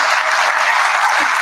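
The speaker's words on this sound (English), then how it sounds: "let's give it a round of applause for Russ real quick" A round of applause from the audience at the Broodstock II awards presentation, dense steady clapping that is loud and close for a short burst, with no talk over it.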